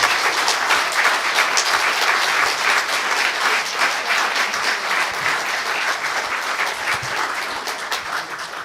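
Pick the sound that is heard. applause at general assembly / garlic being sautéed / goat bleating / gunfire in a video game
applause at general assembly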